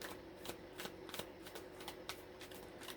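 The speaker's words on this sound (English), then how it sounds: "Let's get some more cards out." Tarot cards are shuffled close by in a quick, soft riffling rhythm of repeated flicks and slaps, faint and steady for a few seconds.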